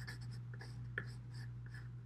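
A pencil scratches across paper in quick, continuous strokes, close and steady, while sketching lines on a drawing of pilings, over a faint low hum.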